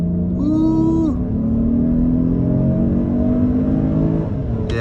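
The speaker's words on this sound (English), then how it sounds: "We'll try one more acceleration run once we're situated." A 2022 Toyota Highlander XSE accelerating hard on a multi-lane highway, its engine droning loud and steady with a clear rising pitch through the gears, heard from inside the cabin.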